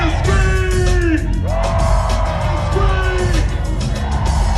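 A loud concert crowd screams and yells at a Grammy performance, with whoops and bellowing voices over a steady dense roar.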